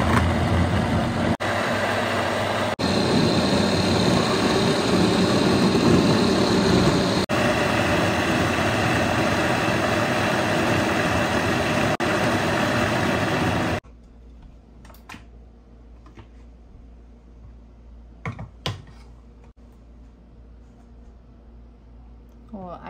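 A Hamilton Beach mixer grinds dosa batter on a wet, soft and fine setting, a loud steady whirring roar for about fourteen seconds that stops abruptly, leaving quiet room sound with a few clicks.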